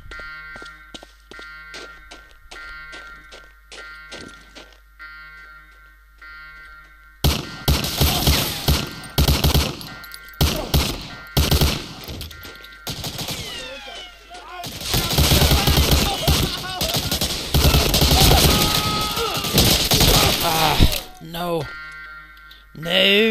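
Loud bursts of gunfire in Medal of Honor: Allied Assault, with rapid automatic shots in dense volleys after a quieter ticking opening, some close and heavy. A voice talks over parts of it.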